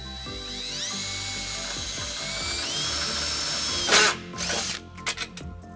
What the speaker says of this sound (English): we'll tighten it up using a 3/8 socket